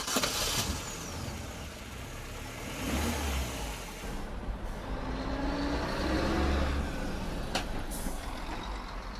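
A vehicle engine pulling away as a driver sets off for the day, a steady broadband rumble rising and swelling with a brief hiss, fairly close with no talk.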